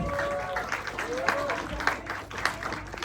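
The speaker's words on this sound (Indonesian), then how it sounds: "Tepuk tangan dong sekali lagi dong." An audience applauds at a drum clinic featuring drummer Gabriel Marvellio Marion with Meinl cymbals and Gretsch drums, a steady dense clapping wash under a presenter's talking and some crowd noise.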